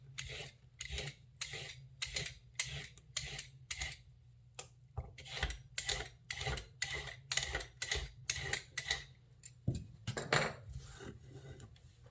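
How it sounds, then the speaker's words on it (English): A knife chops carrots on a cutting board in a steady run of sharp, close taps. The rhythm pauses briefly midway and then picks back up, with a faint low hum underneath and no talking. "So with carrots, I just cut the ends off."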